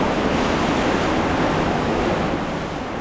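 Water surges and rushes around legs wading knee-deep through a flooded underground tunnel, a dense, continuous sloshing wash that stays loud and close throughout with no voices.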